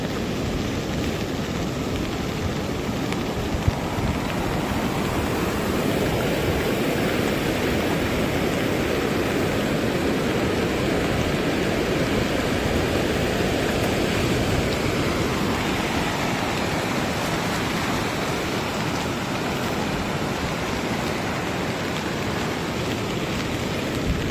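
Steady, dense roar of sea surf on the secluded Lal Kakra beach, continuous broadband wash with no breaks or voices.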